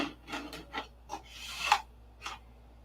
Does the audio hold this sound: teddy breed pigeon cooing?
no